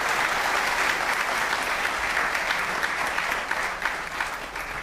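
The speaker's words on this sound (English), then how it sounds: "listening to that applause" Sustained audience applause fills the room at a talk on India's Mars mission, dense and steady before thinning slightly toward the end.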